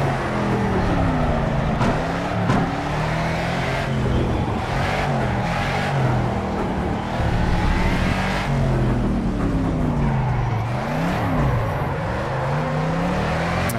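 A Mercedes 300SEL 6.8 AMG sedan with a 6.8-litre V8 engine, driven in Project CARS at Greenwood, roars loudly through repeated rising and falling revs as it accelerates and shifts gears, with no talking heard.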